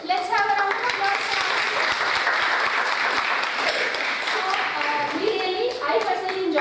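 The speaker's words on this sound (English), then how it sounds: "Let's have a round of applause." Workshop participants at a nursing college clap together in a steady, dense round of applause, fairly close and sustained for several seconds with faint voices mixed in.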